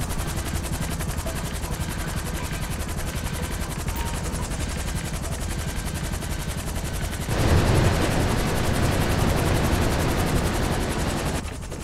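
Helicopter rotor chop and bursts of gunfire during a heist mission in the video game GTA V. The thudding and shooting run continuously and loudly, then grow heavier and denser for the last few seconds.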